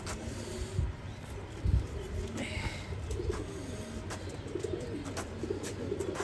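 A pair of racing pigeons at a loft coo continuously in low, burbling tones, near and steady, with a couple of soft thumps and faint background noise.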